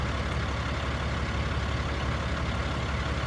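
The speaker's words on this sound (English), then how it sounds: "I'd be idling up to hear if I hear any miss" A truck engine idles steadily during a pre-purchase inspection, a continuous low rumble that holds even and close throughout with no breaks or voices.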